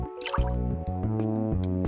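Water poured into a container in the video game Perfect Tides: short dripping, filling splashes over a steady bed of tonal game music, with no talking.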